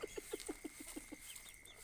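A hen on a nest gives a steady run of about eight evenly spaced low clucks, close and moderately loud, tapering off toward the end.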